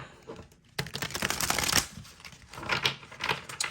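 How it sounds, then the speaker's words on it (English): Tarot cards being shuffled by hand, quick papery riffles and slaps in two bursts, close and fairly faint, with no talk. "I had to shuffle these cards a different way because they were sticking like so bad"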